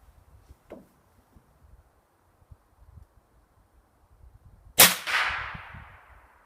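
A Savage MKII FV-SR rimfire rifle with a short barrel fires once outdoors. A sharp, loud crack follows several seconds of near silence with faint rustling, then trails off in a fading echo.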